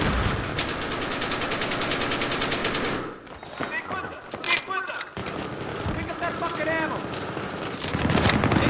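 Automatic gunfire from a weapon in the video game Battlefield 3, rapid bursts loud and close, stopping briefly midway with scattered shots and game noise before the firing resumes; a voice talks over it.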